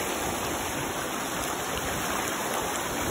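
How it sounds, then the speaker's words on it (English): A waterfall at Templer Park near Kuala Lumpur roars steadily close to its source, a dense continuous rush of water that stays even and loud throughout. "I'm pretty close to the source of the waterfall"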